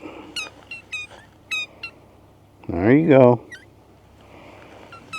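A pet dog's squeaky toy squeaks in several short sharp bursts, then a longer wavering squeal, with a brief spoken voice between.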